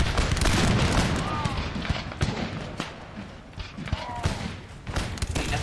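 Musket volleys fired by line infantry in the video game Empire Total War, a 13 Colonies battle around forts, come as several sharp cracks and booms over a dense battle din, with a voice briefly under the noise.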